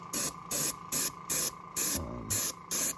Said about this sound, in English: I've got this thing spraying on pretty heavy, actually heavier than I'd probably like it